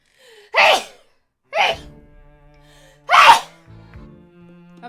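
Three sharp sneezes burst out close by, well spaced across a few seconds, with the last one loudest and followed by a softer breathy trailing sound.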